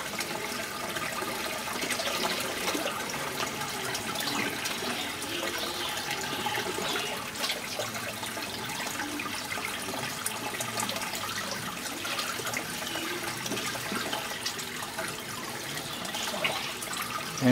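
A small test container rinsed with aquaponics tank water, heard as a steady close splashing and running of water with no talking.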